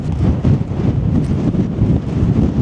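Strong wind at a campsite where a freestanding tent is pitched buffets the microphone with loud, continuous low roaring gusts that swell and ease but never stop, with no talking.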